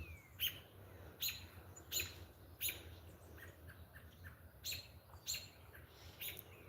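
Ducklings chirping in a repeated series of high, piercing peeps at regular intervals, close and clear over a soft low outdoor background.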